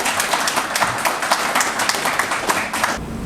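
Audience applause at a book launch ceremony, dense continuous clapping from a crowd, loud and sustained for about three seconds before dropping off, with no voices over it.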